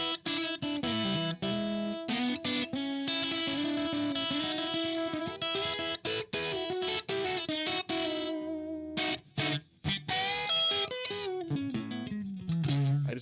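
Electric guitar licks through a small SoHo amp, a run of bright, distorted phrases with sustained bends and choppy stops, loud and close with no talking.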